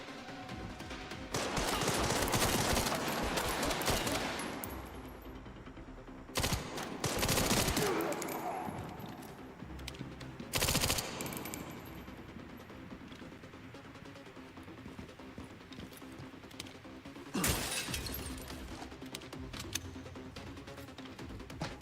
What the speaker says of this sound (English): Laying suppressing fire.